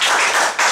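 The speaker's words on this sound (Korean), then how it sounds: "박수 한번 쳐보세요." An audience at a lecture breaks into a short, dense burst of clapping, close and loud, lasting under a second.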